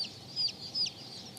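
Blue Sumatra chickens cluck softly, with two brief clucks standing out over a faint, steady background and no one speaking.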